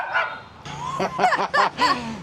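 A stray dog on a street in Vietnam barks in a quick run of four or five sharp, close barks after a softer yip at the start.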